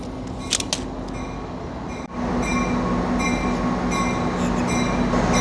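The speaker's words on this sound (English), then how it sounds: "Wouldn't you know it? Here's our train." An airport train arrives at Miami International Airport, with a steady rumbling hum and faint squealing tones that grow louder after a brief dip partway through, close by with no talking.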